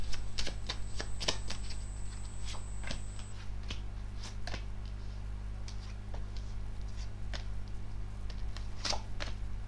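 Tarot cards are shuffled and sorted by hand in a quiet room, giving soft repeated riffles and sharp flicks at an irregular rhythm over a steady low hum, with no talking.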